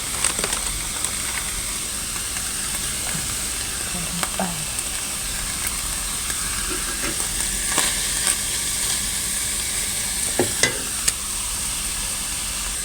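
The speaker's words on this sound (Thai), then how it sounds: "คั่วพริกแกงให้มีกลิ่นหอมสักเล็กน้อยนะคะ แล้วเราค่อยใส่ หมูลงไปเนาะ" Bite-sized pork belly pieces fry in Thai curry paste in a pan, giving a steady loud sizzle broken by stirring scrapes and clatters, with a brief spoken word.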